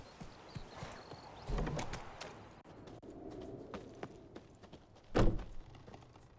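Hooves of Roach, the horse in The Witcher 3, clip-clopping on the ground: a few soft, irregular footfalls, with one louder thud near the end, over quiet ambient background.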